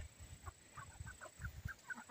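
Soft, distant clucking from a rooster, a series of short low calls repeating irregularly over a faint steady hum.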